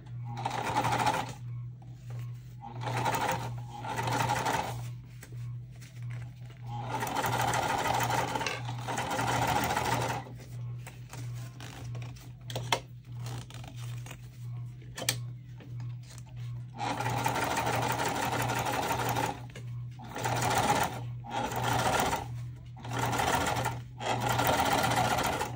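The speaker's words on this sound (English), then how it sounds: "And we'll now top stitch this piece F up." A sewing machine runs in bursts while top stitching a tote bag piece, its rapid needle chatter starting and stopping several times with short quiet gaps between runs, close and steady over a faint constant hum.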